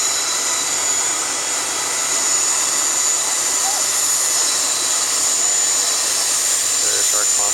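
Boeing 787 jet at Paine Field airport in Everett, Washington, a loud, steady engine whine and roar filling the background throughout, heard outdoors on the apron.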